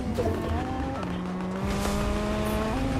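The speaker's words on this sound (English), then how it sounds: "Another car coming in on our side." Car engine driving in the Fortnite video game, a steady whining drone with shifting pitch throughout, a brief tire squeal along the way.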